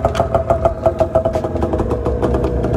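The two-stroke engine of a 1997 Arctic Cat ZR600 snowmobile runs close by with a loud, steady, rapidly pulsing idle and a faint clatter, heard without any talk.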